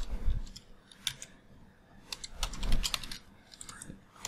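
Typing on a computer keyboard, clusters of quick clicking keystrokes in short irregular bursts separated by brief pauses, close and crisp with a low background thump, no voices.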